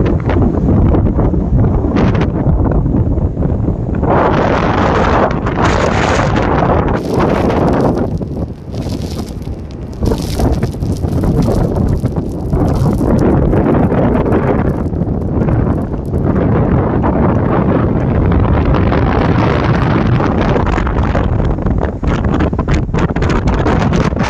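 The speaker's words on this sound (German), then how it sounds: "Hier ist die ganze Zeit Scheißwind und sowas." Strong wind roars continuously at the Atlantic Ocean coast in Portugal, buffeting the microphone loudly and without pause.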